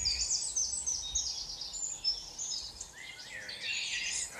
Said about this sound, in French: les oiseaux chantent à partir de minuit